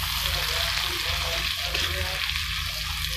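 Ginger and garlic fry in a pan with salt and turmeric, stirred through a continuous loud sizzle and soft scraping, heard close and without talk.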